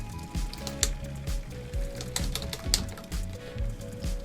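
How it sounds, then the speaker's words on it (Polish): A series of light, sharp clicks from a Shimano Alfine 8 gear shifter on an e-bike with a Bafang 750 motor, repeating at an uneven rhythm over a low steady hum. "tylko słuchać kliknięcie manetki"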